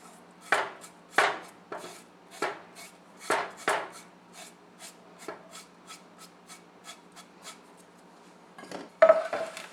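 Cilantro is stirred and folded into a pot of khichdi, a savory rice and lentil dish, with a spoon scraping and knocking against the pot in a run of irregular strokes, a louder clatter at the end.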